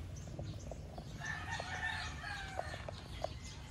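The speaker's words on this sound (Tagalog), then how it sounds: "Native na chicken." Native chickens outdoors, a rooster's drawn-out crow rising over scattered clucks and short calls, moderately close with a low background rumble throughout.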